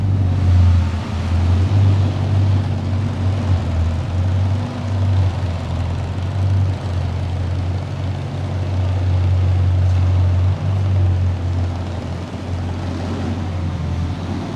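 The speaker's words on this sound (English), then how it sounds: "it's time to listen up to the sound of the Bugatti Divo W16, 1500 horsepower" Bugatti Divo supercar with a 1500-horsepower W16 engine, heard outdoors as a steady, loud low rumble at idle that holds for the whole stretch with slight swells and no talking.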